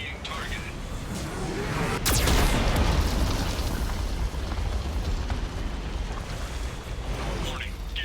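A Geth cannon blast in Mass Effect 2 Legendary Edition, a single loud booming explosion that rolls into a long rumbling roar and slowly fades, with a voice heard briefly near the end.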